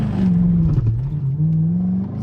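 A C5 Corvette launches hard in a straight line with traction control on, its engine roaring loud and close as one sustained note with a brief dip partway through.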